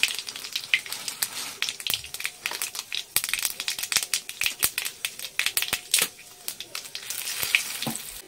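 Panch phoron spices and bay leaf sizzling in hot oil in a kadai, a bright crackling sizzle with sharp popping spits scattered across it, fairly close and moderately quiet.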